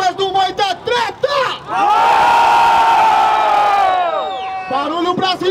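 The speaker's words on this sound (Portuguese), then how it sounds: "Vamos lá, barulho pra rimas do Moita Treta" A crowd at a Brazilian freestyle rap battle roars, cheers and whoops loudly after a shouted call from a host, the close, sustained cheer swelling and then fading as a voice comes back in.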